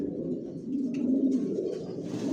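Racing pigeons cooing in their loft: a low, soft, rolling coo, close and continuous for a couple of seconds, with faint higher chirps or rustles behind it.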